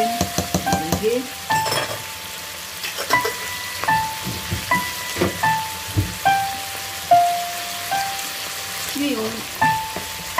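Seafood sizzles in a hot pan as fresh tomato and corn are tipped in and stirred, giving a steady crackle broken by repeated scraping stirs and soft clatters, with a thin ringing tone sounding on and off.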